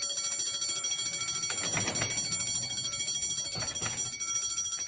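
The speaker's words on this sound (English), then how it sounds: "Report of an alarm bell ringing" A steady, continuous electric alarm bell rings at a building in Putney High Street, London, a dense metallic clatter that never pauses, with a few faint thuds in the background.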